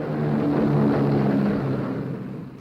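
A Boeing B-17 Flying Fortress bomber levels off at about 4,000 feet for a bomb run, its engines giving a loud, steady droning roar that slowly fades toward the end.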